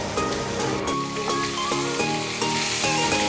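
Bata fish fry in hot oil with a loud, continuous crackling sizzle, broken by sharp taps and scrapes of a utensil at irregular intervals, close up and with no voices.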